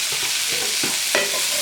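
Serranos, celery, scallions and onion sautéing in a pan give a steady close sizzle, with a few soft stirring scrapes and clicks breaking through the hiss.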